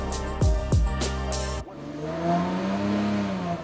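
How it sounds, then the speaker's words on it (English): A 1990s V12 sports car engine with five valves per cylinder and a red line near 9,000 RPM revs hard in a few sharp, rising blips, then settles into a steady high drone and builds again. The engine is loud and close, and no one speaks. "This is a V12 engine"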